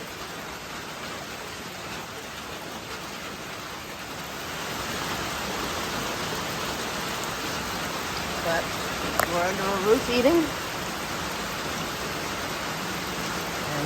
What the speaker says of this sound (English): Well, here comes that rain.